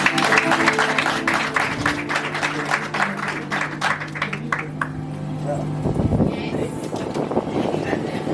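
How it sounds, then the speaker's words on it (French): Guests applaud at a civil wedding ceremony: a thick burst of clapping that carries on for several seconds, then tapers off as a voice takes over, with some wind noise on the microphone. "On applaudit très fort, s'il vous plaît."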